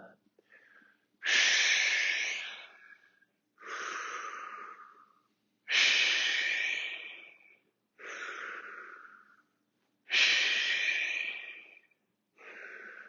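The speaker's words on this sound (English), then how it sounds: "Exhale forward. Inhale up. Exhale. Inhale." Heavy rhythmic breathing during a fitness class exercise, with loud forceful exhales alternating with inhales about every two seconds, close and alone.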